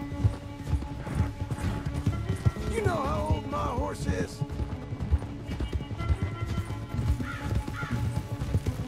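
Horse hooves clip-clop steadily in Red Dead Redemption 2, a rhythmic trotting patter close by, with faint crow caws and brief mechanical noises mixed in.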